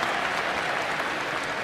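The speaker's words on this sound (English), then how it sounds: "cheers from the crowd" A crowd cheers and applauds at a Knicks versus Hornets NBA preseason basketball game, a loud dense roar of clapping that holds steady throughout.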